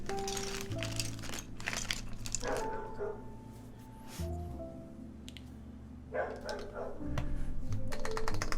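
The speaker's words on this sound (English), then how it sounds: "Man, the dogs are so noisy today." Dogs barking somewhere in the background of a keyboard-building livestream, several bursts of barking mixed with clacking keyboard and crinkling sounds at moderate level.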